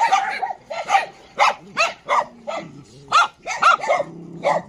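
A small, timid rescued Teddy dog (toy poodle) yaps in a rapid run of about a dozen high, sharp barks, close and loud, with short gaps between bursts.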